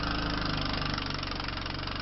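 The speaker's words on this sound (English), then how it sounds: "in the driveway with the snowblower" A snowblower engine runs steadily in a snowy driveway in Manchester, Connecticut during a heavy snowstorm, a droning mid-pitched motor hum with a regular throbbing pulse, moderately close and continuous.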